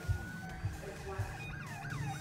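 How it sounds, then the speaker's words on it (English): A faint wailing police siren in Roblox sweeps up and down in the distance beneath low rumbling engine noise and soft, indistinct voices. "Turn your siren off"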